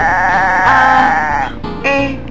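A goat bleats twice up close, a loud wavering cry followed by a shorter second call.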